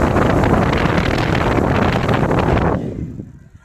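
A small fan powered by a DIY 22.2V lithium battery pack blowing hard straight at the microphone, a loud steady rushing roar that drops away sharply near the end.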